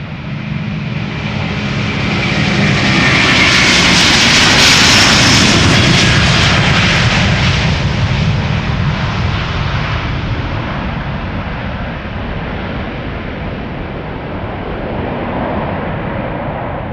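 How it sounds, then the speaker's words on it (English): Delta Airbus A330 jet airliners pass by, a loud, close jet roar that swells to a peak and then recedes into a steady rumble with a smaller rise near the end. "I think we're going to see 4 consecutive Delta A330s with 1 Neo and 3 of them 300s"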